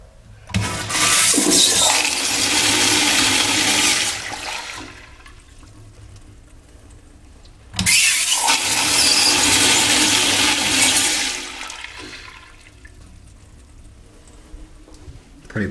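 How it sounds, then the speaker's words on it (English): Two powerful Sloan commercial toilet flushes, each a loud rushing roar of water lasting several seconds before fading, the second following shortly after the first. "pretty powerful flush."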